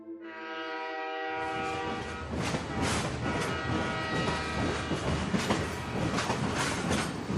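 A train sound effect in a radio drama: a horn blast opens, then a moving train rumbles with rhythmic clickety-clack of wheels over rail joints, steady and fairly close, no voices.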